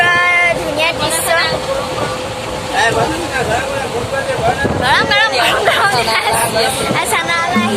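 Interior of a moving passenger train: steady rail rumble and carriage rattle throughout, with loud passenger chatter and overlapping voices, bright squeals and clanks cutting in near the middle and end.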